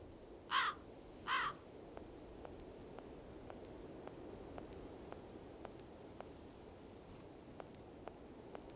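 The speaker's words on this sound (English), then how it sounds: "these are some noisy crows" Two loud, harsh crow caws ring out close together near the start of a scene in the game Syberia, followed by a faint third call much later over quiet wind and soft ambient ticks.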